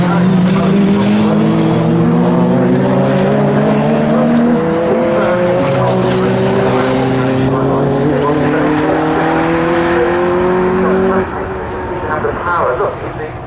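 Racing cars including a Nissan Skyline at a Snetterton saloon race, several engines roaring loudly together with rising and falling revs as they pass and pull away, with a voice talking over the continuous engine noise.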